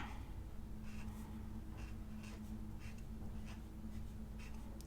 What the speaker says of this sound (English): So I'm just going to write work here.